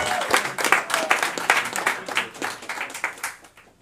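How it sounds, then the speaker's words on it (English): Audience applause at a jazz event at the National Jazz Museum in Harlem, a dense burst of clapping that starts loud and gradually tapers off over a few seconds, with no talk over it. "Round of applause for Erica for bringing all these kids here."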